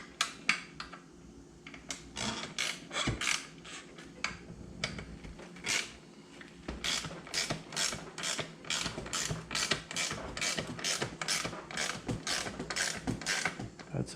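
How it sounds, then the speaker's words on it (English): A ratchet turning a seat bolt on a Can-Am Maverick X3 during a seat install, heard as a steady run of quick clicking strokes, close and fairly quiet, coming in short bursts with no one talking over it. "So ratchet on there, turn it on there by hand just to make sure we're"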